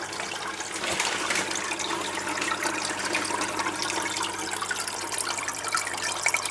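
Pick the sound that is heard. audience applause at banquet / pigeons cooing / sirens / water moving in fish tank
water moving in fish tank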